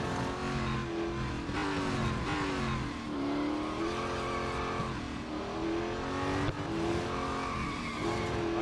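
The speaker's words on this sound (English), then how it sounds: "I'm doing my best to slide this car all over the place." A race car in the Real Racing 3 video game slides and skids, with the engine revving up and down and tires squealing in repeated waves. The sound is continuous and loud, and no one talks.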